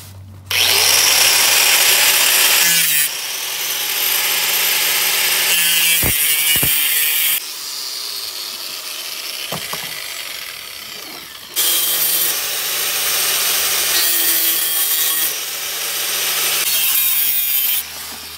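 A power tool cuts out rusted sheet metal from a truck rocker panel with a loud, harsh, steady grinding whine, close by, running in long stretches with short pauses between cuts.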